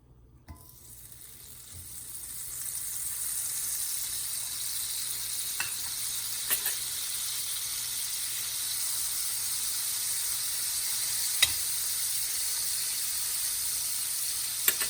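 Butter sizzles and hisses in a heated pan on medium heat for a buffalo sauce, rising from quiet to a steady sizzle with a few faint clicks and no voices.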